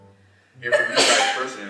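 A single person sneezes, a short sharp burst right after a brief stretch of quiet speech, close and fairly loud with a breathy trailing release.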